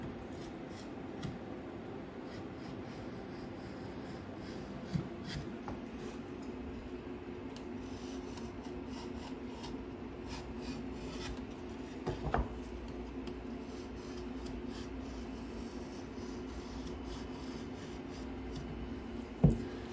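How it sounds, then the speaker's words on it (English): A utility knife scores along a line on drywall, a soft continuous scraping rub with a few sharper clicks and taps, close up and fairly quiet. "I'm just going to run the knife right along, but I'm staying about a good 1/8 of an inch in on that line"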